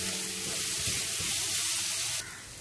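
Onion and capsicum fry together in a pan with a constant close sizzle, some low stirring noise underneath, fading down near the end; no voices.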